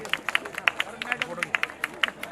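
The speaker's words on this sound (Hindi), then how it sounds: "ऐसे बच्चों के लिए जोरदार तालियां बजाएं।" Children at a charity run event are cheered with a loud round of clapping, crisp individual claps ringing out in a quick irregular rhythm over crowd murmur and a voice talking.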